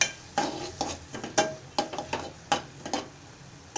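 A spoon stirs Malvani-spiced pea samosa filling in a pan, giving about a dozen sharp clinking scrapes in an uneven rhythm, close and clear with no talking.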